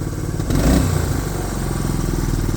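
Honda motorcycle engine at a repair shop, idling with a steady mid-pitched rumble, then a brief blip of revving partway through before settling back to a close, even idle.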